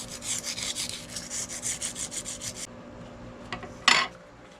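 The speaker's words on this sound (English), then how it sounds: "take a little piece of sandpaper, and that's another good way to get it off" Sandpaper rubbed briskly along an arrow shaft to strip off old fletching, a close rhythmic rasping of rapid strokes for about two and a half seconds, then a brief pause and one last louder scrape.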